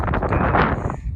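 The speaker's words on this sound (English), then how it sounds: "We're sincerely hoping that the wind will die." Wind gusting against a makeshift tarp shelter at a campsite on the Continental Divide Trail, a steady loud broadband roar with fluttering swells, alone without talk.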